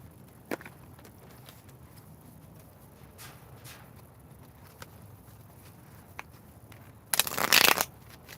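A deck of cards is shuffled for a reading: a few scattered soft clicks and taps, then a dense, loud burst of riffling near the end lasting under a second.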